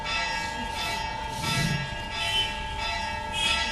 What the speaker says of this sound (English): Can you still hear me, although the bell is there?